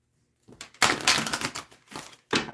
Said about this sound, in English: I'm just going to give this a quick shuffle really quick.